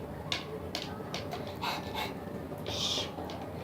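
A person imitates a dog with breathy, panting bursts and whiny sounds, repeated in short irregular puffs at close range against a noisy indoor background.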